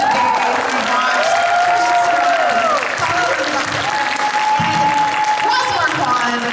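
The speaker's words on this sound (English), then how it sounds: "I want to give a big round of applause to our guests today." Sustained applause from a large audience at a Walking Dead cast Q&A panel, loud and continuous, with some cheering and a voice carrying over the clapping.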